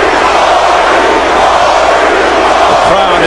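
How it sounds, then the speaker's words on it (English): Boxing arena crowd roaring steadily for hometown favorite Cory Spinks in his rematch with Zab Judah, a loud, dense wall of cheering and shouting with no clear break. "Crowd exhorting their hometown favorite, Cory Spinks."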